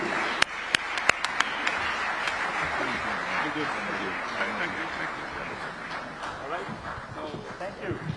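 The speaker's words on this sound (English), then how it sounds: "Can we give another warm clap to the chairs of the Africa Forward Summit?" Audience applause at the closing ceremony of the Kenya-France Africa Forward Summit, a few sharp claps at first swelling into steady sustained clapping from a large hall crowd, with an amplified voice speaking over it.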